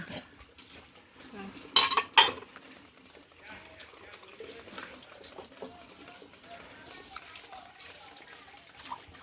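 Cups and dishes being washed by hand, with clinking crockery and a sharp pair of clatters near the start, then quieter rinsing and trickling water under faint background talk.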